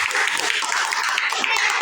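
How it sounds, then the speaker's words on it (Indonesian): A brief, steady burst of audience applause, dense and fairly loud, with many hands clapping together at once. "Tepuk tangan lagi."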